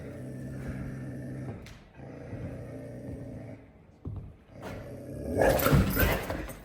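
A reactive Cane Corso growls in low, sustained rumbles close by, pausing briefly, then erupting into a louder, harsher snarl and scuffle at the end.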